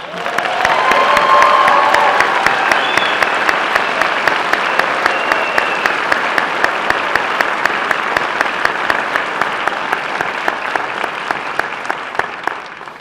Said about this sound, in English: I ask you to applaud them, the people of North Carolina.